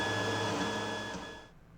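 A Creality Ender 5 3D printer's frame shakes from fast motions, a faint whirring rattle with steady tonal whines that tapers off and stops after about a second and a half, leaving quiet.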